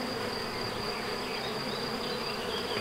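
A dense swarm of honey bees near hives moved to a rapeseed field hums in a steady, continuous buzz that fills the whole stretch at an even level, with no voices.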